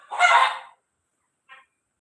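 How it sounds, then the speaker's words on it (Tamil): A chicken lets out one loud squawk, then a short, faint cluck follows after a pause of silence. "கோழி வந்து கத்த ஆரம்பிச்சிட்டு"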